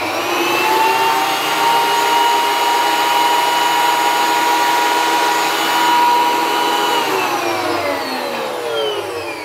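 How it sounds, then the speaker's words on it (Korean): A 6-inch jointer planer runs at full speed in a woodworking shop, a loud, steady motor whine with high-pitched tonal hum that holds constant and begins to wind down near the end, with no talking. "다시 6인치 수압대패 소리 한번 들어볼게요"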